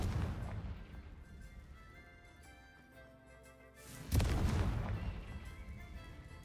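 A Confringo blast spell cast in a video game bursts out as one loud, booming explosion partway through, after a stretch of low rumbling game ambience.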